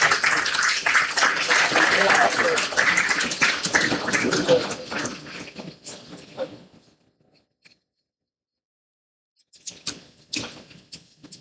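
An audience applauds at a felicitation during an international conference, a dense round of clapping that fades out, goes silent, then briefly returns as scattered claps.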